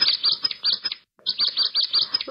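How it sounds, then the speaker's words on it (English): A bird chirps close and clear in repeated quick bursts of high, bright tweets, pausing briefly midway before continuing, with no other sound around it. "Look, what a pretty bird that is."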